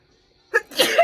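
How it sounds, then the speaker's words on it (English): A person sneezes once, a short sharp breath in followed by a loud close burst, alone after a moment of silence. "I have to sneeze"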